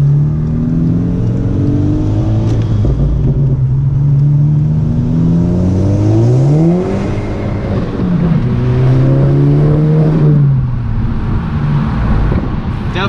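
A Volkswagen GTI engine revving up through the gears while driving, loud and close, with rising whines that drop sharply at each shift and then climb again, over steady road and wind noise.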